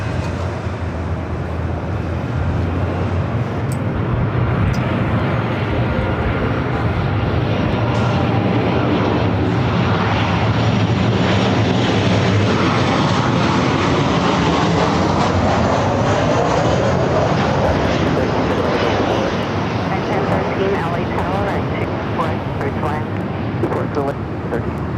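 Loud, continuous roar of airliner jet engines at LAX airport, a steady broadband rumble that swells and shifts across the whole stretch, with people talking over it.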